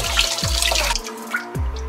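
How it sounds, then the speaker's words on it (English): Water is poured into a lower cooking pot while two stuck pots are being separated, a brief loud splashing gush with a few quick sloshing pulses. "you need to pour water into the lower pot"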